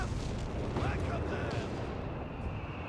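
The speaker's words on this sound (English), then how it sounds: "Mr.Howe's artillery is quick to respond here" Artillery shells burst in Company of Heroes 3, a dense rumbling barrage of booms and pops that fades out near the end, with a commentator talking over the battle.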